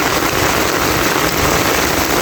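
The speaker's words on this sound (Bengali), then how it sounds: "প্রচুর বৃষ্টি।" Heavy rain falls during a stormy day on a flooded road, a dense, loud, unbroken hiss of downpour with no pauses.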